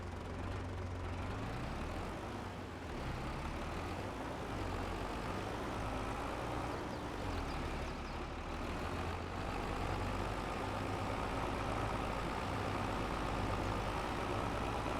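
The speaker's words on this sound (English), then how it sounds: "I can feel that the tractor is working now a lot more than it did before" A tractor engine in Farming Simulator 22 labors under load with a steady, deep, droning rumble that holds constant throughout, loud and close, with no talking.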